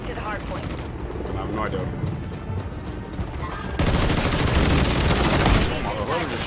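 Dense bursts of rapid SMG gunfire in a first-person shooter, with overlapping shots and explosive crackle that grow louder in the second half, under a player talking and in-game voice lines.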